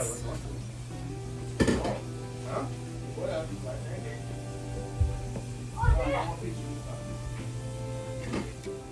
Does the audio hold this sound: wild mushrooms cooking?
yes